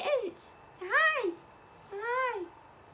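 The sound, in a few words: cat meowing in the Pixar movie Soul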